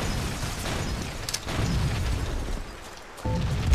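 A grenade explodes in the Halo CE video game, a muffled boom within steady game noise, followed by further rumbling blasts.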